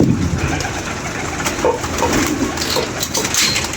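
Pigeons coo steadily up close, soft throaty rolling calls repeating over a constant, noisy background with no talking.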